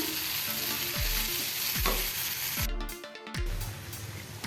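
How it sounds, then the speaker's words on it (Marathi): Broccoli tossed into a hot pan and stirred, giving a steady loud sizzle broken by several spoon scrapes against the pan, close up and without talk. "त्याच्यामध्ये आपण ब्रोकोली घालूया आणि मिक्स करूया"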